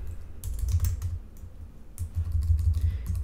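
Fingers type an HTML div tag on a computer keyboard, two quick bursts of close, crisp key clicks separated by a short pause, with no one talking.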